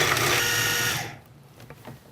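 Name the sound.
food processor pulsing broccoli and cauliflower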